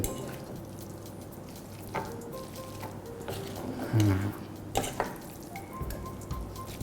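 Tuna spaghetti in white sauce is tossed and stirred in a pan, with soft sizzling, wet sloshing and a few scraping clatters scattered over several seconds, at moderate volume.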